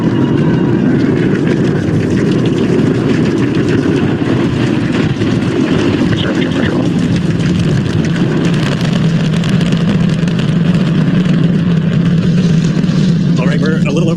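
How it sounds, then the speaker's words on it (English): SpaceX Starship lifting off with all 33 Raptor engines firing, a loud, continuous broadband roar that barely varies, with a voice talking over it. "We are seeing 33 out of 33 Raptor engines ignited."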